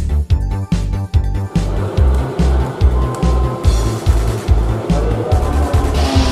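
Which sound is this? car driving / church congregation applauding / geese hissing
car driving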